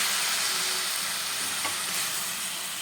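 Chickpea sundal being stirred in a kadai pan, a steady close sizzle with soft scraping stir strokes running throughout at an even level.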